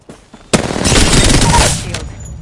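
Gunfire in the video game Apex Legends: two faint distant pops, then a loud close burst of rapid automatic fire lasting about a second and a half before it cuts off.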